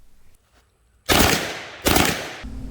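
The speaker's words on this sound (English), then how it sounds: "However, the Uzi is an absolute blast to shoot, incredibly fun, and with a 32 round capacity, has plenty of firepower." Uzi submachine gun with 32-round capacity firing, two loud sustained bursts of rapid fire close by, separated by a short pause, after a quiet start.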